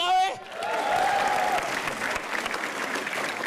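Audience applause at a stand-up comedy show swells after a brief shout, a dense wash of clapping and crowd noise that holds steady for a few seconds with voices mixed in.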